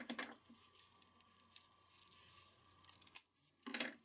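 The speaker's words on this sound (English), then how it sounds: "So let's go ahead and cut this off." Scissors snip off excess trim while a birthday card is made, with a few crisp cuts at the start and a louder burst near the end, close and alone.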